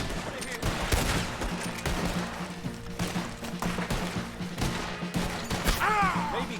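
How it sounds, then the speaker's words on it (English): A battle in the video game Red Dead Redemption 2, with repeated gunfire and heavy booms from a cannon in dense bursts, overlaid by game music and some voices. "прекрати пулять из пушки своей"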